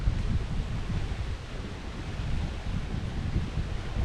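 Steady breeze gusting across the Lake Lanier lower overlook, with broadband wind rumble and microphone buffeting, and faint lapping of lake waves beneath, continuous and fairly loud with no voices.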